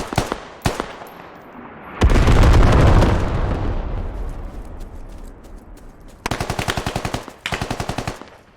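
Gunfire in a tactical multiplayer shooter match, fired at long range: a few sharp single shots, then a loud sustained burst with a rumbling tail, later two rapid automatic volleys, loud and close.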